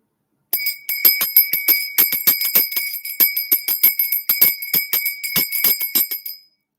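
A hand bell rings rapidly and continuously for about six seconds, with bright metallic strikes repeating in a fast, uneven rhythm close to the listener, and no talk over it.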